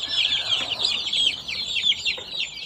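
Brazilian Shamo cross Japanese chicks cheep and peep continuously in a dense, high, overlapping chorus, close by with no talking.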